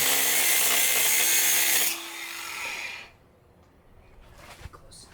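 A power tool grinds loudly right beside a propane tank at a stone house build in the Italian Alps, a harsh, steady whine that stops after about two seconds, leaving quieter handling noises.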